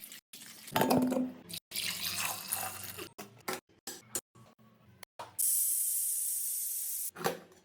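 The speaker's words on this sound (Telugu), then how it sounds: "ఒక 4 లేదా 3 బంగాళదుంపలు తీసుకొని మంచిగా కడుక్కోండి" Three or four potatoes are washed under running tap water in a kitchen sink, with bursts of splashing and gushing broken by short pauses and a steady stream near the end.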